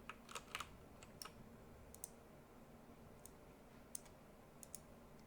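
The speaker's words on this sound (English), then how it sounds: "I'm going to hold down Control and click, and Control and click again." Sharp computer keyboard and mouse clicks, with the Control key held while clicking, sound in small clusters of light taps. They are close and fairly quiet over faint room hiss, with no talking.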